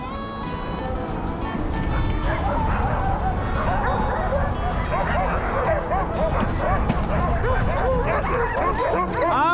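Sled dogs in the Upper Peninsula bark, yip and whimper excitedly all at once, a loud, dense chorus of overlapping calls close by with no pauses.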